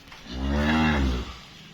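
A young, newly born calf of a Jersey-Friesian cross cow on a Pakistani farm gives one drawn-out, close, loud moo lasting about a second, with quiet before and after.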